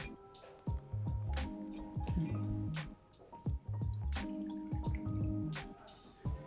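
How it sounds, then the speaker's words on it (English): Water drips and splashes while a wine decanter is rinsed, with irregular clusters of droplets and small squishy pours, close and fairly quiet with brief pauses between bursts. "The reason why we want to rinse the decanter, just to make sure that the decanter is free of any other aromas or particles"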